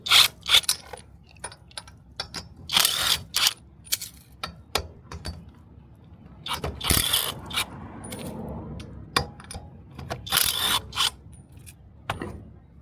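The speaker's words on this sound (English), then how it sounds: "Now I'm just gonna come over here and take the lug nuts off." Lug nuts, 18 mm, coming off a wheel of a 1998 Subaru Sambar: a string of sharp metallic clicks, clinks and scrapes in irregular bursts, close and fairly loud, with no talking.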